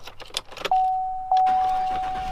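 Keys jangle briefly inside a GMC Yukon Denali XL truck, a quick metallic jingle up close, followed by a steady electronic warning chime that holds on to the end.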